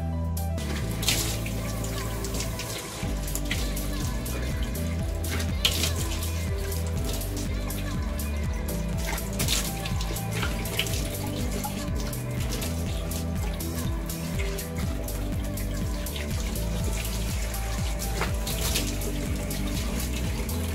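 Tap water runs and splashes steadily as a face is rinsed at a sink, a close continuous patter with irregular splashy bursts throughout.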